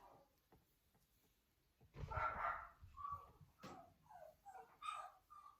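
A dog barks several times in short bursts at moderate distance, with quieter yips and whimpers between, indoors, no one speaking.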